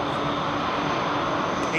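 An airliner departing London Heathrow Airport produces a steady, loud, sustained engine roar that holds evenly throughout.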